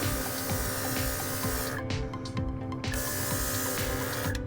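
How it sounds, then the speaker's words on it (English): A cordless-compressor airbrush sprays paint with a steady, close hiss that drops out briefly partway through, then resumes alone. "I love this airbrush"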